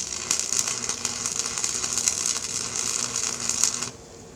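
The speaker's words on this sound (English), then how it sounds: "But I'm gonna go ahead and weld it up solid." Arc welding on the gear teeth of a John Deere transaxle, a steady close crackling hiss with flickering bursts that holds for about four seconds and then cuts off abruptly, with no talking.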